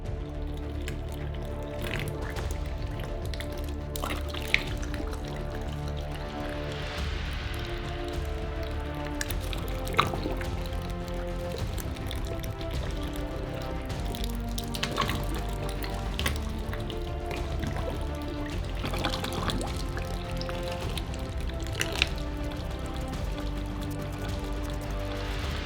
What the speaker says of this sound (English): We keep alternating, filling the both sides until the mold is full.